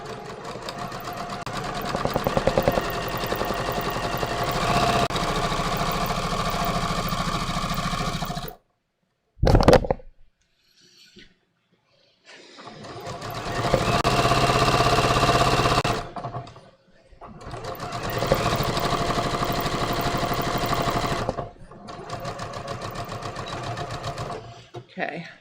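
A sewing machine stitches floral linen shorts in long, steady mechanical runs, stopping for short pauses between passes. A person talks in parts of the clip.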